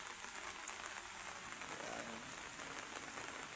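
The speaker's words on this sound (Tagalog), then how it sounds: "walang tigil yung ulan" Nonstop rain falls steadily at night over a flooded street, a constant soft hiss with a dense patter of drops and no talking.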